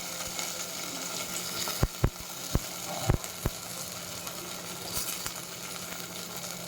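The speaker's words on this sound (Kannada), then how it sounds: "ಮೊಳಕೆ ಕಾಳು ಕಟ್ಟಿರುವಂತಹ ಮೊಳಕೆ ಕಾಳನ್ನ ನಾನಲ್ಲಿ ಹಾಕ್ತೀನಿ" Sprouted legumes drop into a hot pan and sizzle with a steady, even hiss, broken by a few sharp clicks and taps from the pan and spoon.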